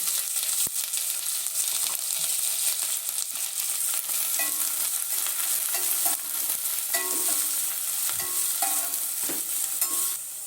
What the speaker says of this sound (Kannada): ಈರುಳ್ಳಿ ಚೆನ್ನಾಗಿ ಫ್ರೈ ಆಗಿದೆ